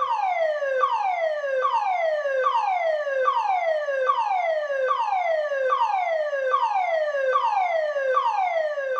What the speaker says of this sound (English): And the toxic gas alarm, which is a constant sounder.